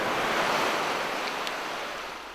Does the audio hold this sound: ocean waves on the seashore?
yes